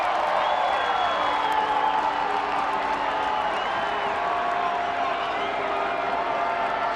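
A stadium crowd cheers and whoops at a Phoenix Rising FC versus El Paso Locomotive FC soccer match, a steady wall of distant roaring voices with whistles and shouts rising above it, continuous for the whole stretch.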